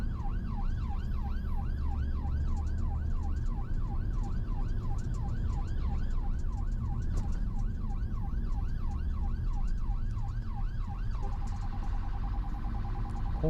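A wailing UK emergency vehicle siren cycles rapidly up and down, loud and continuous, then switches to a steadier tone near the end amid rush-hour motorway traffic rumble.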